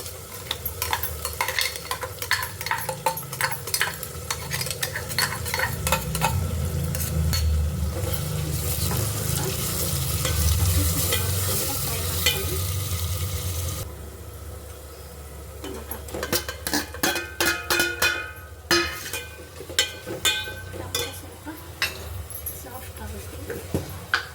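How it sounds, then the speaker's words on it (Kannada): Ground masala paste sizzling and frying with golden onions for a Sunday chicken biryani, a steady loud hiss broken by repeated scraping strokes of a spoon against the pan, with the sizzle easing partway through. "ಇದು ರುಬ್ಕೊಂಡಿದ್ದೆಲ್ಲ ಪೇಸ್ಟ್ ಹಾಕ್ತೀನಿ"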